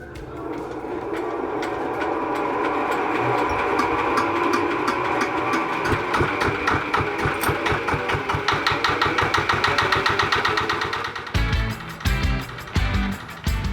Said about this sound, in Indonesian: Beras ketan yang sudah aku sangrai tinggal masuk ke mesin penggilingan.